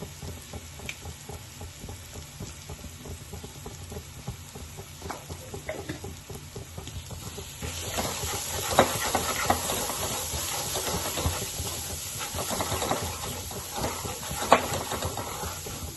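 Onion garlic masala with coriander powder cooks in oil for a Maharashtrian amti, giving a soft hiss that swells into a louder, steady sizzle with occasional stirring clicks, and no talk.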